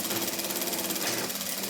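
A sewing machine runs a seam on a headboard with a continuous, rapid stitching buzz, close and steady throughout with no voices.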